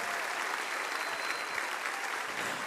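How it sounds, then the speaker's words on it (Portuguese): A church congregation applauds during a worship service, a steady, dense wash of many hands clapping at once, fairly distant and even throughout with no voices on top. "Aplaudir mais forte aí, igreja."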